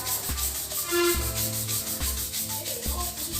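Bathroom floor tiles scrubbed with salt water, giving repeated rubbing strokes in a steady back-and-forth rhythm, close and moderately loud, with no talking.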